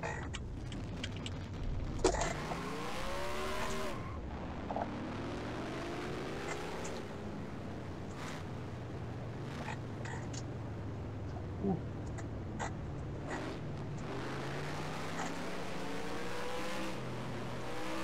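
Engines rev and rise in pitch repeatedly, a pack of NASCAR Camping World Truck Series trucks accelerating and shifting at a race start in NASCAR Racing 2003, with sustained droning and occasional bursts.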